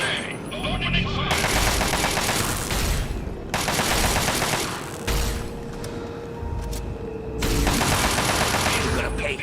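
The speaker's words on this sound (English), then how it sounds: "Opening fire." Sustained automatic gunfire in Fallout TTW comes in three long, loud bursts separated by short lulls, with some voice between volleys.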